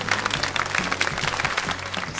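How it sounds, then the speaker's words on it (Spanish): An audience at an award announcement applauds briskly for a couple of seconds, close clapping over a low tonal background hum with faint voices. "Aplausos para ella."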